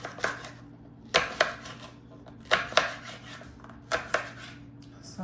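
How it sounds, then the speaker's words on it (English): A knife dices conch on a cutting board for fritters, sounding as clusters of sharp knocks in irregular bursts separated by quiet pauses, close and crisp over faint background hum. "So you just cut it up and dice it."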